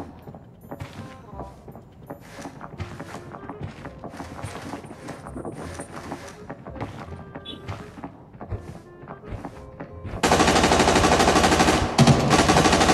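Rapid automatic gunfire in the video game PUBG bursts in loud and sustained over the final few seconds, after a stretch of scattered in-game footsteps and clatter.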